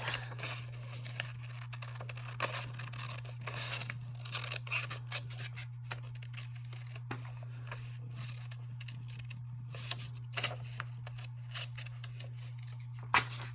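Scissors snip out paper wings for a toilet-paper-roll bee. Close, crisp cuts and short snips come in an irregular rhythm over a steady low hum, with no talking.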